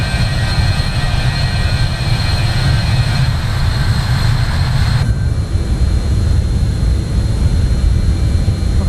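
Jet airliner departing Kasese in Microsoft Flight Simulator at sunset, a loud, steady engine roar with a broad low rumble and high whine throughout, the whine dropping away about halfway through as the roar continues.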